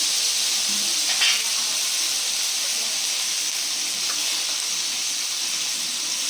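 Grated pepper, onion and tomato sizzle in oil in a pan, a steady close hiss with only a few faint stirring scrapes and no talk.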